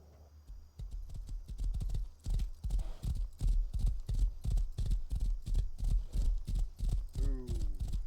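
Horse hooves clip-clopping in a video game, a loud, steady run of evenly spaced hoof strikes lasting several seconds, with a brief whinny near the end and occasional quiet talk over it.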